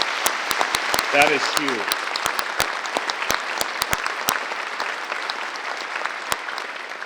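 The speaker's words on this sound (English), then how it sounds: "Let's have one more round of applause." A room full of steady applause at a public safety awards ceremony continues throughout, with a few sharper individual claps standing out and someone briefly speaking over it.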